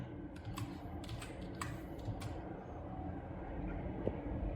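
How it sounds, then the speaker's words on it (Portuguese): Keys clack on a Positivo S1991 notebook keyboard as a password is typed, a quick scatter of light taps over a steady low fan-like hum, faint and without speech. "você digita a senha"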